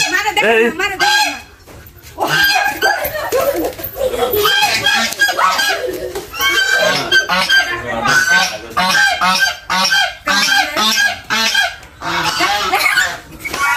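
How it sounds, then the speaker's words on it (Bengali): A flock of domestic geese honks loudly and repeatedly at a village house in Rajbari, with overlapping calls in irregular bursts close by and voices now and then among them. "রাজহাঁস দেখাই দিয়েছিলাম"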